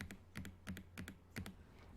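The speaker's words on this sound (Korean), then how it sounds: "컨트롤 키를 누르고 있는 상태에서 방향키 아래로" Repeated presses of the Ctrl and down arrow keys on a computer keyboard: sharp close clicks in pairs and small clusters, evenly spaced, with no talking.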